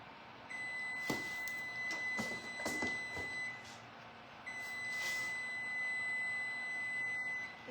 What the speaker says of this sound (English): this timer's so obnoxious.